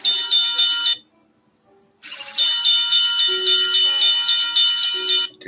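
An N scale model railroad crossing signal bell rings in rapid, steady electronic dings, close and loud, stops for about a second, then resumes and keeps ringing with a second lower tone joining partway through; no talking.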